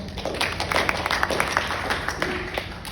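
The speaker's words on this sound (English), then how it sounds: "Give applause" A graduation audience claps in brief, scattered applause, close and moderately loud, and the clapping thins out after a few seconds.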